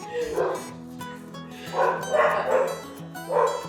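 Two dogs bark indoors, set off by a cat at the window, in several loud, close bursts of yipping barks, with a person's voice talking underneath.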